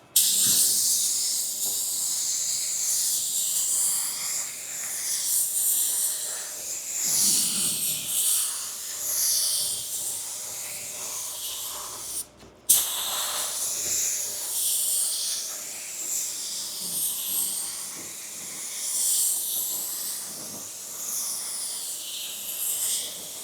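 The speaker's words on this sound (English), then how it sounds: "We're going to spray one coat over the primer." A spray gun lays a coat of base coat paint over primer on a car panel, a steady airy hiss running almost continuously with one brief cutoff midway as the trigger releases and resumes.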